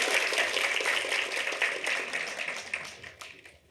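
Audience applause at a cinema talk event marking an arthouse cinema's anniversary, a dense wash of clapping that fades out over a few seconds.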